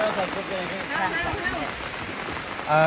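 Rain falling steadily during a storm outside a noodle shop, a dense hiss of drops spattering on surfaces, fairly close and continuous, with brief faint voices mixed in.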